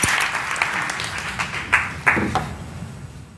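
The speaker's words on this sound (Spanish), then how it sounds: "un aplauso para Raquel ahí" An audience in a lecture hall gives Raquel scattered applause: a few distinct claps that thin out and fade within a few seconds, fairly quiet and somewhat distant.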